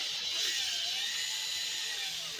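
A power drill bores through a broken bolt stuck in a Dodge Charger brake backing plate, a steady high-pitched whine with a slowly shifting tone, continuous and close.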